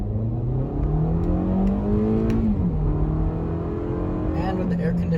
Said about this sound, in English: with the air conditioning on in eco mode, it pulls away just fine